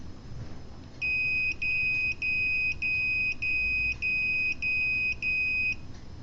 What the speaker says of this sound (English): Active buzzer.